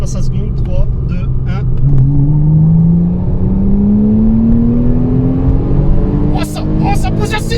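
Porsche Cayman S 987 flat-six pulling hard in second gear up toward the rev limiter, a steadily rising engine note climbing for several seconds, loud and close from inside the car with brief bursts of other noise near the end.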